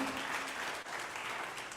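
A brief, steady burst of audience clapping fills a Zimbabwean robotics awards ceremony, close and even for under two seconds.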